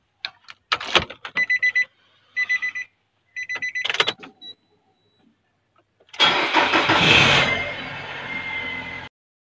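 A car that is hard to start when its engine is hot gives a few short electronic beeps. Then the starter motor cranks in a burst of about three seconds, loud and close, and cuts off abruptly.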